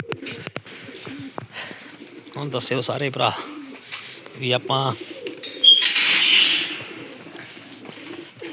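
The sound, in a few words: pigeons cooing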